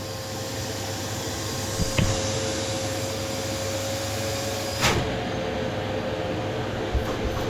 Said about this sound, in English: Don't forget to vacuum off your sponge blocks before you move them anywhere from the fireplace.